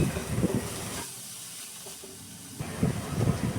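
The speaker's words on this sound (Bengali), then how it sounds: "এবার কড়াইতে তেল দিয়ে কেটে রাখা সবজিগুলোকে ভেজে নেব" Carrot, capsicum, onion and green chilli frying in oil in a wok, a loud hissing sizzle with rough stirring bursts that drops to a quieter hiss midway before surging again.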